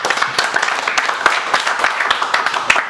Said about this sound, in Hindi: आप सब लोग इस बात पे एशिया टेलीकॉम के लिए एक बार तालियां बजा दीजिए